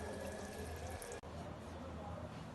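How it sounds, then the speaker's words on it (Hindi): Tap water pouring steadily into a vessel of chickpeas being rinsed in a kitchen, a constant gentle rush with one brief break partway through. "ये टूटी से इसमें पानी डाला जा रहा है।"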